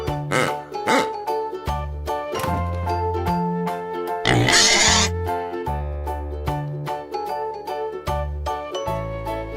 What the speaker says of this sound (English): Pink pig.